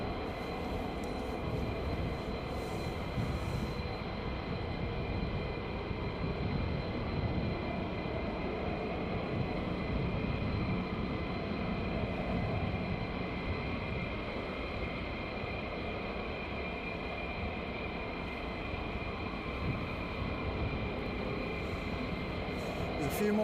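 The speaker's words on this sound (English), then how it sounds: "F-35's playing around behind me somewhere." F-35 jets fly at night around RAF Lakenheath, a continuous broad distant roar that holds steady throughout with no distinct pass, and no talk over it.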